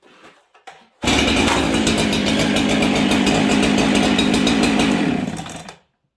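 A chainsaw roars to life after a few faint noises, then runs loud and close at a steady high rev for about four seconds before cutting off abruptly into silence.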